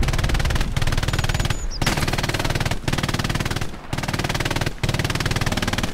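Sustained machine gun fire in the World War II shooter Hell Let Loose, long rapid bursts broken by brief pauses, loud and close throughout.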